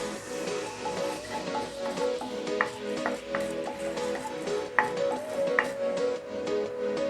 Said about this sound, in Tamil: இப்போ வெந்தயமும் நல்லா அப்படியே பொரிஞ்சிருச்சு